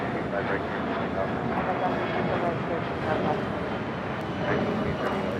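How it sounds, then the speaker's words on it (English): Challenger 650 business jet taking off at Los Angeles International Airport, a sustained broadband engine roar at moderate distance, with voices talking over it. "This is a Challenger 650 taking off"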